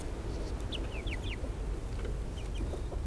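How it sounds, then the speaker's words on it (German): A young rooster clucks softly and chirps in short, repeated calls while being petted, close and fairly quiet over a low rustling background, with no talking. "Du bist ja gar nicht der Hahn, der bei dem Short vorkam, ne?"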